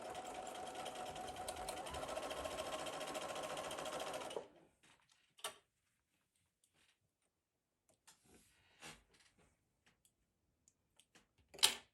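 A sewing machine runs a few back stitches on a cross stitch portfolio bag, a steady mechanical whir for about four seconds, then stops abruptly, leaving near silence with scattered soft clicks and handling taps.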